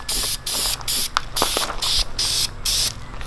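Bursts of aerosol bed liner coating spraying onto a street go-kart hiss in a steady on-off rhythm, several short sprays close up with brief pauses between them.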